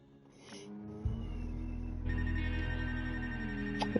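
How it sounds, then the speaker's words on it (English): An incoming call rings on a radio station studio telephone as an electronic ringtone, a sustained tonal warble that steps louder partway through and plays close and alone, without talk. "We've got a phone call coming in."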